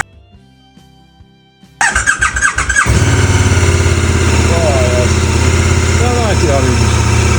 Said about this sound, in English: Let's fire it up. This is the first time I've fired it up